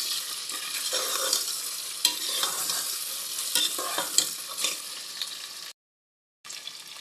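Garlic, ginger and chicken sizzle together in a pan for chicken haleem, with a steady hiss of frying broken by scraping stirs, close up and without speech, briefly cutting out near the end.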